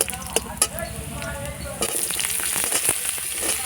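Brinjal pieces go into hot oil with dried chili and garlic, and a burst of bright sizzling follows, with faint clinks of utensils. A voice can be heard lightly before the sizzle.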